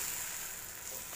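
Radish adai batter sizzles steadily in a hot pan, a soft continuous frying hiss with no voices.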